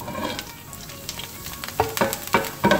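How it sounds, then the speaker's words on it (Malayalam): Rice grains spluttering in hot oil in a pan, steady frying sizzle with a few louder sharp pops near the end, close and clear with no talking. "അപ്പോൾ എണ്ണ ചൂടായിട്ടുണ്ട്. ഇതിന് ഞാൻ ഇച്ചിരി അരിയാണ് പൊട്ടിക്കുന്നത്,"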